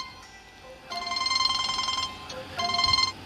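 A telephone rings in two bursts of trilling electronic tones separated by a short gap, loud and close, with no speech.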